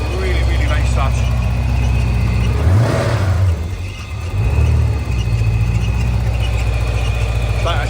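A 5-litre V8 in a 1987 Porsche 928 S4 manual with a rebuilt engine idles close by in a steady low rumble, with a brief dip and swell midway and faint voices underneath.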